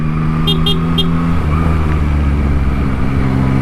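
Large trucks rumble through dense road traffic at night, a steady, loud engine drone heard from a rider's vehicle, with a few short, high horn-like toots early on.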